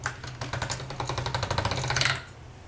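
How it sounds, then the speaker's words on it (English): A sheet of polymer clay is fed through a hand-cranked pasta machine on its thickest setting, number 7. It makes a rapid, even ratcheting clatter close up that builds slightly and then stops near the end. "Now this needs to be run through on the thickest setting of my pasta machine, which is a number 7."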